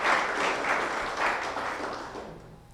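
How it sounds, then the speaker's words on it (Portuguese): A church congregation applauds in praise of the Lord, a dense burst of many hands clapping that swells and then fades away over a few seconds. "Vamos dar uma salva de palmas para o nosso Senhor, que está vivo"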